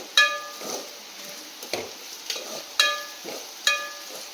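Coriander powder and spices being sautéed in a pan for Madurai-style fish kulambu: a spoon scrapes and clinks against the pan in a few sharp, evenly spaced strikes, with a soft sizzle in between.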